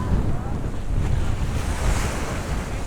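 Sea waves crash and splash steadily along a shore at Koliyak during a pilgrimage gathering, a loud continuous wash of surf mixed with wind rumble buffeting the microphone, with no voices standing out.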